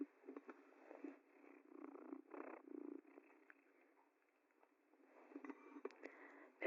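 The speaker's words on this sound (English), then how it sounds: "That's all the purring you get" A cat purrs softly and close by in a steady rumbling rhythm, heard through a thin, narrow-band line, with faint rustling and sniffing.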